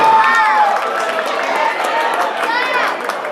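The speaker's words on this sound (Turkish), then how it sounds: "Alkışlıyoruz kardeşlerimizi." Wedding guests applaud and cheer at a Turkish wedding ceremony, a loud, continuous crowd roar with clapping and voices close by.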